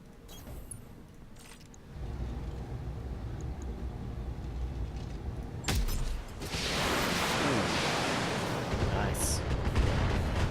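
Mech weapons firing in a BattleTech multiplayer match, a broad roar of sustained fire and explosions building from a low rumble into a dense, loud barrage after a sharp burst partway through.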